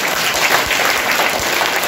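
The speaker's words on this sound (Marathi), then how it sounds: "या सगळ्यांसाठी एकदा जोरात टाळ्या वाजवून जाऊया." A school audience at a Marathi Day quiz in a Latur primary school bursts into loud, sustained applause, a dense wash of many hands clapping steadily for the full two seconds with no voices.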